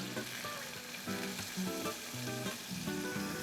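Onions caramelizing in a pan sizzle and fry steadily after a splash of water, the hiss continuous with scraping of the pan bottom, close and fairly loud.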